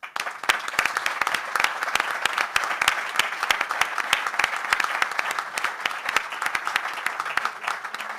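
Audience applause at an event honoring a footballer in Tetuán, with steady dense clapping from a crowd throughout, fairly close and filling the whole stretch without speech.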